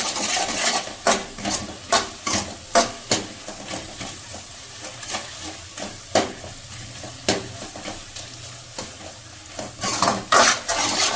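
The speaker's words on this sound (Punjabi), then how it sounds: "2 ਮਿੰਟ ਚੰਗੀ ਤਰ੍ਹਾਂ ਪਨੀਰ ਨੂੰ ਭੁੰਨਣਾ ਹੈ" Paneer roasts in desi ghee in a pan, with a soft sizzle under repeated metal spatula scrapes and knocks against the pan, close and rhythmic, without talk.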